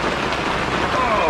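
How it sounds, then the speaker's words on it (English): Heavy rain pours down on a campsite as a dense, steady hiss and patter, loud and close, filling the short stretch without a break. "Just trying to enjoy my dinner and the rain gets started for realsies."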